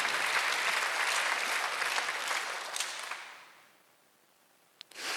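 Applause from a church congregation during a Sunday worship sermon, a dense steady clatter of many hands that holds for several seconds, then thins and fades away, leaving near silence with a couple of faint isolated claps.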